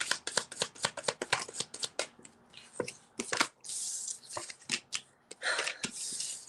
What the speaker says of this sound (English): These cards are not shuffling very well.